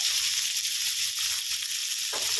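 Marinated pork hits a hot pan of fragrant garlic, stir-fried for snow peas with pork, giving a steady loud sizzle throughout with a brief stirring scrape near the end.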